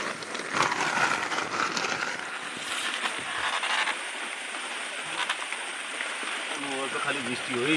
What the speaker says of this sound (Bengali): খালি বৃষ্টি হয়েই যাচ্ছে